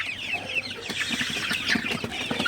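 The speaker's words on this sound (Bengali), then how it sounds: "আমার সোনালি মুরগিগুলা আলহামদুলিল্লাহ খুবই ভালো আছে" Sonali hybrid chickens on a farm at night, 49 days old, clucking and chattering continuously as a dense flock, close and fairly loud with overlapping calls throughout.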